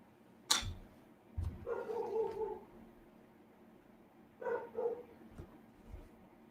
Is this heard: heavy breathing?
no